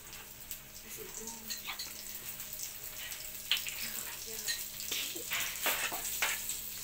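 Chicken caldereta ingredients sautéing in a pan give off a low, steady sizzle, with scattered clinks and scrapes of stirring throughout.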